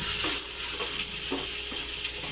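Chopped onion goes into garlic already frying in a pan, giving a steady, close sizzle with a few scraping stirs of a utensil on top, and no voices.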